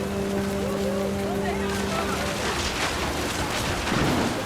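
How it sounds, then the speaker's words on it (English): Heavy rain in the game What Remains of Edith Finch pours down as a dense, steady hiss with a low rumble beneath, continuous throughout, while a person narrates over it and a faint tonal hum fades early on. "The rain came down in buckets then"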